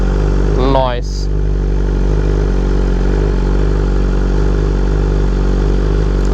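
A BMW S1000RR motorcycle set up for drag racing idles loudly and steadily up close, with a brief voice near the start over the constant engine drone.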